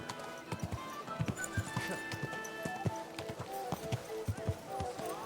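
Horse hooves clip-clop steadily along with an occasional whinny in Kingdom Come: Deliverance II, close and fairly loud over a busy backdrop of tonal game sounds, with a voice briefly heard.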